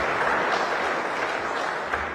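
An audience at a press event applauds with steady, moderately loud clapping that continues for about two seconds.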